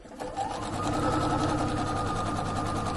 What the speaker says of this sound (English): I'm starting at the very top again and just stitching down the center of the tape